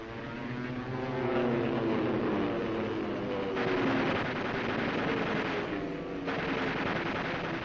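Propeller aircraft engines drone loudly and steadily throughout, a Spitfire and a Messerschmitt in a WWII air duel, with the pitch swelling and shifting as the planes maneuver, and no talking.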